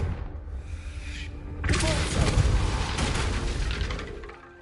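A Confringo spell cast in Hogwarts Legacy goes off with a sudden booming blast that rolls into a sustained crackling rumble for a few seconds before fading.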